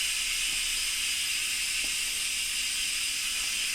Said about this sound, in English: I'm just going to let the steam go up